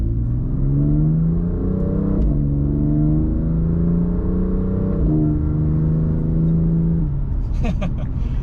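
A car engine revs up and pulls steadily, its pitch climbing through a couple of gear changes, loud and close, with a brief voice near the end.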